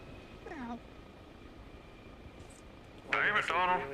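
A voice imitates a cat, giving a short meow early on and then a quick run of several louder meows near the end, with quiet background in between, during a voice chat in an Arma Reforger helicopter game.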